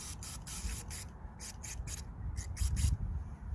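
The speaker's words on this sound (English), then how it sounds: "we're gonna give it a good clean with the electrical contact cleaner spray" Electrical contact cleaner sprayed in short hissing bursts onto a 1.8 petrol Honda Civic MK8 engine, about nine quick spurts in an irregular rhythm, close and fairly loud, over a low rumbling background.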